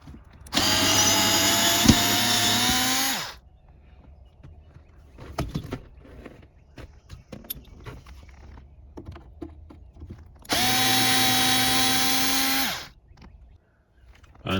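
A cordless power drill backs Phillips-head screws out of the center console of a seventh-generation Nissan Maxima, two loud sustained whirring runs separated by quieter clicks and handling noises nearby.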